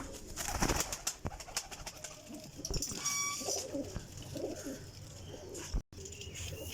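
Champion flying pigeons coo softly in bursts, close by and fairly faint, with some sharp clicks and handling noise and no talking.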